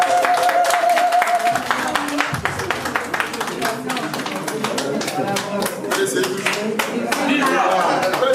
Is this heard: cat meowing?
no